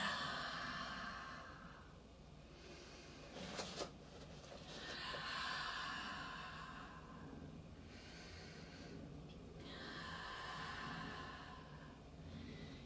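Slow, deep breaths during yoga practice: long inhales and exhales swell and fade in a calm rhythm, close and audible with no talking.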